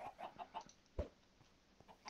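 Chickens cluck in the Minecraft Skyblock video game, a faint series of short, clipped clucks with one sharper squawk in the middle, quiet and without speech.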